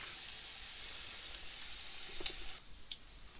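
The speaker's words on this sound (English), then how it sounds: "bacon is getting done here" Bacon frying in a pan at a wilderness campsite, a quiet steady sizzle and hiss with a few faint clicks near the end, heard alone and fairly soft.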